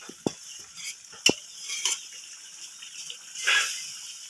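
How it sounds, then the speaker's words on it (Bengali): A spoon stirs cumin paste into a fish curry cooking in a pan, giving a few sharp scraping clinks against the metal over a soft, low sizzle. "জিরে বাটাটা দিয়ে দেবো।"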